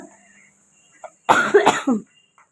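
A person coughs in a short, harsh burst of several rapid coughs at close range, followed by a quieter throat sound, in an otherwise quiet home.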